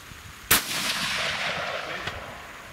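A single sharp gunshot cracks out during long range shooting, followed by a long rolling echo that fades over the next two seconds, with a faint second report near the end.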